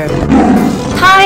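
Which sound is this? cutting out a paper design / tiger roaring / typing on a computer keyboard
tiger roaring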